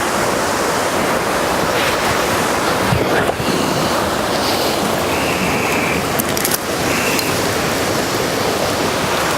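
Steady broadband rush of a waterfall on a wildlife photography outing, loud and continuous with a constant hiss throughout, a faint thump midway and no voices.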